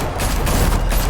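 Gunfire in Telltale's Batman video game: a dense, continuous volley of shots and booms that stays loud and steady with no pauses.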